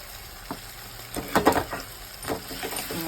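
Onions frying in a pan for an egg tamarind curry, a steady low sizzle with a few louder bursts of stirring and crackle around the middle, close and with no voice over it.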